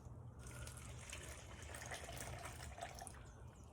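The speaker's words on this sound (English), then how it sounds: "So let's go ahead and pour the rest of this water in here." Water is poured from a container into a jar while curing prawns and shrimp, making a steady, close gushing and splashing fill that runs for the whole few seconds without talk.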